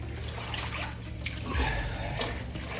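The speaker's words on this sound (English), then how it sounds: "I'm probably going to top this up to about here with water." Water sloshing and trickling as a fabric robe is worked and submerged in a dye bath, a steady close wet churning with small splashes and drips.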